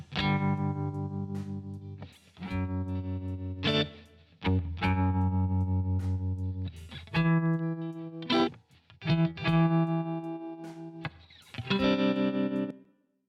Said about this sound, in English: So basically just a filtered reverb going off to one side